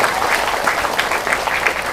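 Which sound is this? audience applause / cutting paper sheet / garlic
audience applause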